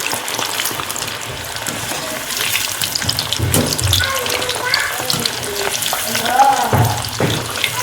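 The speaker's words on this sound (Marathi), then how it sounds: "बटाटा फ्राय करताना तेल जास्त म्हणजे कापून द्यायचं आणि सुरुवातीला थोडंसं मिडियमच ठेवायचा गॅस नंतर मग मोठा करायचा" Boiled potatoes fry in plenty of oil in a pan with a continuous crackling sizzle, with occasional clinks and stirring noises over a faint background of kitchen running water.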